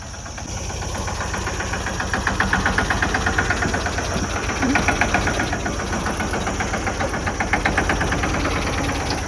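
A tractor engine idles and runs with a steady, rapid knocking chug close by, continuous throughout with no talk.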